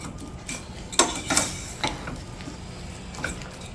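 Quiet clinks and taps of a utensil against a pan while scrambled eggs with blueberries are stirred off the heat, a few sharp metallic ticks over soft scraping.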